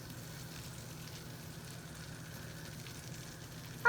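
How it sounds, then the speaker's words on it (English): Butter melts in a skillet with a low, soft, steady sizzle. A brief louder knock sounds at the very end. "We're going to let this melt in the skillet"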